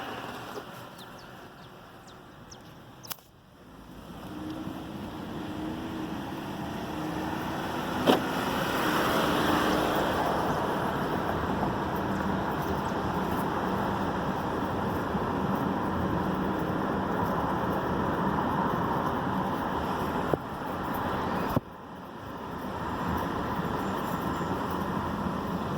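Ford Edge driving with its window down, a steady rumbling road and wheel noise from the front wheel that persists throughout, moderately loud and continuous with a couple of brief knocks.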